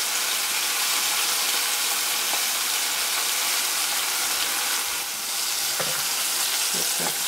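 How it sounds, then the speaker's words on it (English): Onions frying in oil, a loud, dense, continuous sizzle held close throughout, with a few light clinks of stirring near the end. "you want to fry these for about a couple minutes"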